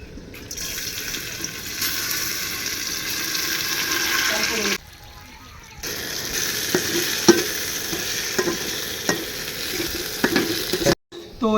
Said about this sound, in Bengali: এবার আমি ডালটাকে ভেজে নেব।